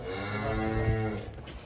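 A very large cow, one of the biggest in Cirebon, gives a single long, deep moo that swells loudly and fades after about a second and a half, close by with no talking.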